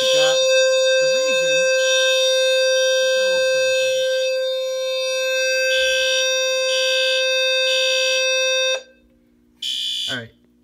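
A System Sensor low-frequency fire alarm sounds continuously and loudly in a home system test, a steady buzzing tone with pulsing overtones; people talk over it, then it cuts off near the end with a brief burst after.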